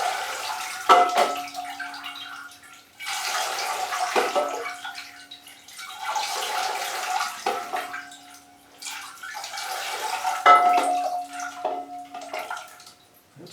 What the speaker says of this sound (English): so we give it a good watering.